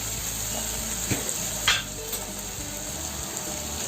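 Ginger garlic paste fries in hot oil with onion and tomato, a continuous close sizzle broken by a few scrapes and knocks of a spoon stirring in the pan.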